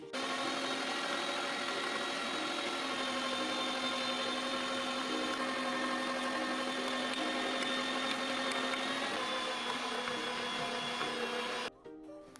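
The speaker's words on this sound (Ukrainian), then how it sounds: "щоб було легше через м'ясорубку пропустити" An electric meat grinder grinding chopped onions and other vegetables whirs steadily and loudly for the whole stretch, a continuous motor drone that cuts off just before the end.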